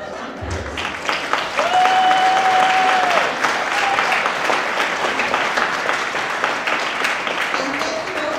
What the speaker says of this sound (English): And a nice round of applause.